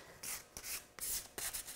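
Sanding a painted surface by hand, several short rough scraping strokes in quick irregular succession, close and fairly quiet with no talking.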